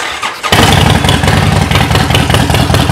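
A Harley-Davidson motorcycle with a heavy breather intake and Vance & Hines staggered shorts exhaust cranks and catches after half a second, then settles into a loud, close, deep, throbbing exhaust rumble at idle.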